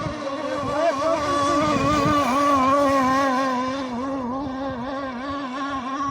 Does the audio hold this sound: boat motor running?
yes